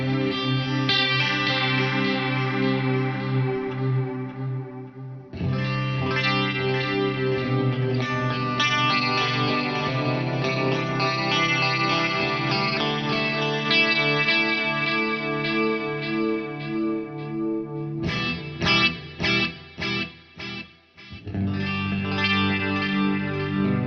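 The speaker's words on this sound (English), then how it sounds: "It's just this pristine, clean delay that it's just amazing." An electric guitar played through a clean 2290-style delay pedal with the rate turned up, sustained chords and notes shimmering with a modulated, repeating echo, pausing briefly and ending in rapid chopped repeats, with no talking.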